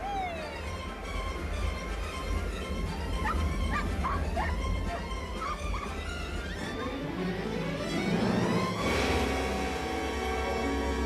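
A dog at Waikiki yips, whimpers and barks in a string of high, excited calls, heard close over a dense bed of music.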